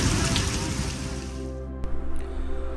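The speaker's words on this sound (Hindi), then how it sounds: "यहाँ बारिश रुकने का वेट कर रहे हैं" Steady rain pours down at Intramuros in Manila, a dense, even hiss throughout, easing slightly partway through, with a faint voice nearby under the downpour.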